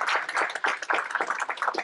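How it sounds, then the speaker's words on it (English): Audience applause for panelists at a conference session on girls' poverty and inequality, a short burst of steady clapping from a small crowd, moderately loud and fairly close. "let's give a big round of applause to our panelists."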